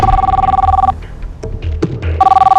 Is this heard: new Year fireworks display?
no